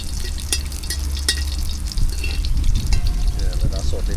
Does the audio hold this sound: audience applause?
no